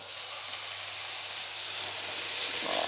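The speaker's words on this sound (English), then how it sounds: "Now we'll add 1 cup of coconut milk" Coconut milk poured into a pan of turmeric and pumpkin, a steady bright sizzle and hiss heard alone at close range that swells slightly toward the end.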